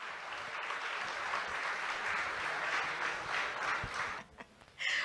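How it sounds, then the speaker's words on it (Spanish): Audience applause for Dr. Teresa Ambriz at the Perú Plagas 2023 event, a steady, dense clapping from a sizable crowd that holds for about four seconds before tapering off and briefly swelling again. "Quiero pedirles un fuerte aplauso, para la doctora Teresa Ambrís"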